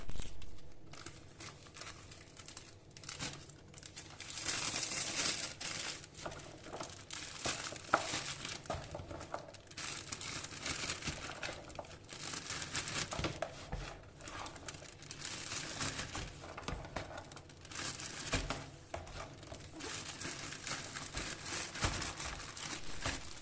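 Thick plastic bags are handled and crinkled close up while peppers are packed, a continuous rustling crackle with swelling, uneven bursts of crumpling.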